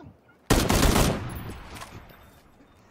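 Gunfire in an online shooter video game, a loud burst of rapid shots that quickly fades into a quieter tail, heard alone without talk.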